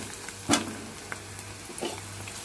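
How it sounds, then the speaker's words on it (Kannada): Onions with a little turmeric frying in a home kitchen pan, a faint low sizzle broken by one sharp stirring clatter early on and a softer scrape later, with no talking. "ಉಳ್ಳಾಗಡ್ಡಿ ಎಲ್ಲ ಹಸಿ ವಾಸನೆ ಹೋಗಿ ಸ್ವಲ್ಪ ಫ್ರೈ ಆಗ್ಯಾವ"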